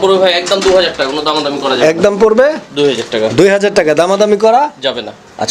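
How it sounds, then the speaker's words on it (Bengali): Fancy pigeons coo softly at a pigeon farm beneath someone talking close by, their low murmuring calls mixed in with his steady speech. "এইটা হচ্ছে আপনার স্পেঞ্জেল কালারের বন্টিনেট কবুতর একটা জোড়া"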